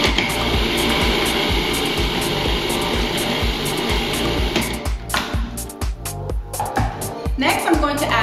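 A blender pulses a chickpea burger mixture with tomato paste, Dijon mustard and red wine vinegar, a loud steady motor whir that breaks into short choppy bursts before stopping and restarting.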